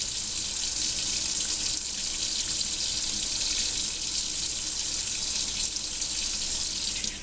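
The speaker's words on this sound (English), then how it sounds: "it's not very good to run the water this long" Tap water runs in a steady, continuous hiss and splash into a sink while an African violet leaf is washed in dishwashing soap, close and unbroken with no talk.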